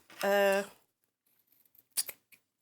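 Sewing scissors trimming loose fabric bits from newly sewn pockets: a short voiced sound opens, then after a quiet gap come a few crisp snips, one louder cut followed by a fainter one.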